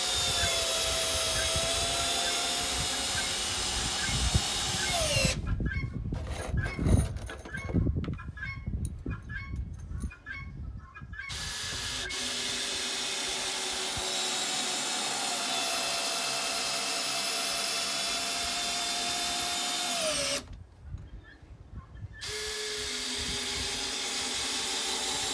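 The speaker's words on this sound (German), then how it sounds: "hier machen wir zwei Schrauben hier rein, zwei Schrauben hier und in der Mitte" A power drill drives screws into wooden veranda boards, its high motor whine running loud and steady for long stretches, dropping in pitch as each screw seats, with a rougher, clattering break between the two runs.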